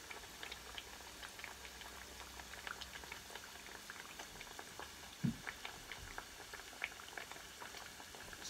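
Green plantain slices frying in hot oil in a pot, a faint continuous bubbling and crackle with small scattered pops and one brief low knock.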